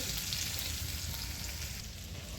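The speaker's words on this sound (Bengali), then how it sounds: "আমি এবার দিয়ে দিচ্ছি রসুন থেঁতো করে রাখা। রসুনটা একটু ভাজা ভাজা হয়ে গেলে তারপরে পেঁয়াজটা দেবো।" Crushed garlic frying in oil, a soft continuous sizzle and crackle held at an even level, fairly quiet and with no talking.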